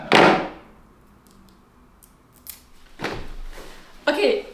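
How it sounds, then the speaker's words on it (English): Scissors snip through tape in a few crisp, close cuts, a sharp one at the start and two more near the end, separated by quieter handling sounds. "you can just cut off the tape and then take off the safety pin"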